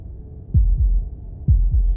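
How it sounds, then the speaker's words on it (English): Two pairs of deep, muffled heartbeat thumps sound in the game Slay the Princess, each a quick lub-dub pulse heard alone over a low hum. "That was the sound of a heartbeat, followed by another."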